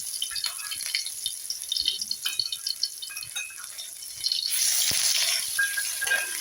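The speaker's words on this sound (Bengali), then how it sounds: "কালো জিরে ফোড়ন দিলাম, রসুন দিলাম" Black cumin and garlic crackle and spit as they hit hot oil for a shrimp and ghetu-stalk chorchori, with a light scattered sizzle that swells into a denser, louder frying hiss partway through; no talking.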